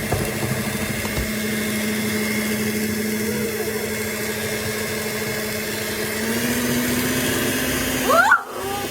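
A stand mixer runs steadily while mixing cinnamon roll dough, a continuous close motor hum and whir with a brief clunk near the end, and no voices.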